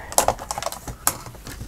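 Paper strip being trimmed for a papercraft project, heard as a quick series of crisp, close snips and clicks spread over under two seconds, with no voices.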